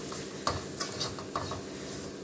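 Crushed whole chili being stirred into a pan of green beans for a stir-fry, soft scraping and a few light clicks of a spoon against the pan over a faint low sizzle.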